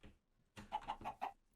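A Minecraft chicken on a skyblock farm clucks four times in a quick, evenly spaced series, quiet and alone after a short near-silent start.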